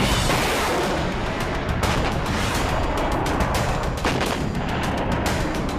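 A 155mm howitzer fires in a heavy, sustained roar of broadband rumble, with a couple of sharper blasts standing out, loud and close with no talking.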